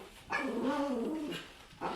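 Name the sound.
dog growling and barking at people in the window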